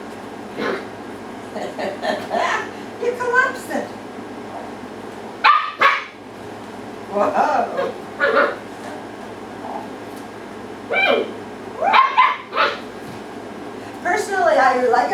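A female dog gives repeated barks and yips in short bursts, fairly close, with a person talking in between.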